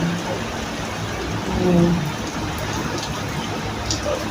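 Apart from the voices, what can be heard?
heavy rain falling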